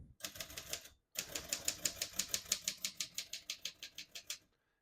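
Rapid mechanical keystrokes from a 1947 Royal Quiet De Luxe portable typewriter, a quick steady run of sharp clacks after a short pause, close and crisp.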